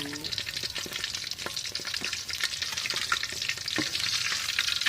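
Fish pieces fry in hot oil with a steady, crackling sizzle and occasional scraping stirs, close and continuous for the whole stretch with no voices.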